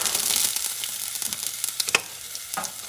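Sliced mushrooms hit a hot pan of pasta sauce for a breaded kangaroo pasta dish, letting out a loud, close sizzle that fades to a steady crackle, broken by sharp utensil scrapes and clinks as the pan is stirred.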